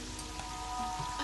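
Rain falls in the Terraria video game as a steady, moderately loud patter beneath faint game tones, with no talking.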